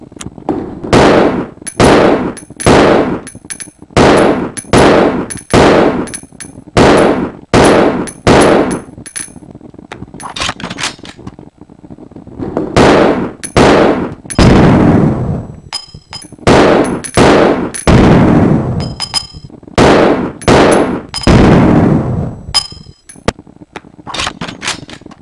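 Handgun shots from a standard army-issue 9mm pistol resembling a Colt 1911 crack out in the video game Resident Evil Zero, sharp loud reports fired in quick bursts and spaced volleys across the stretch.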